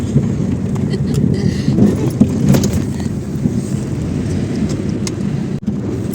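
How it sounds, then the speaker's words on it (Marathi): A car driving steadily through heavy traffic toward Shani Shingnapur, heard from inside as a low continuous engine and road rumble with faint rattles and no talking. "चालवतो गाडी इथं"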